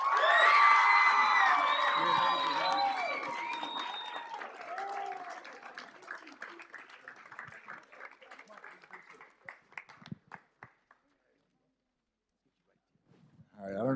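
At a school board meeting, the audience claps and cheers for Dr. Crossway. Loud applause with whoops comes first, then thins into scattered claps and dies to silence, and a little talk returns at the end.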